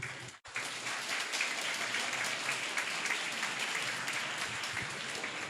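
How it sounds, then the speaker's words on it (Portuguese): Audience applause welcoming a lawyer and professor to the stage at a medical cannabis course, a dense steady clapping that starts abruptly after a brief pause and carries on evenly for several seconds. "Vamos recebê-lo com uma salva de palmas."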